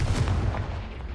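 A Confringo spell blast in the Hogwarts Legacy video game, a loud, close, booming burst with a heavy low rumble that decays over about a second.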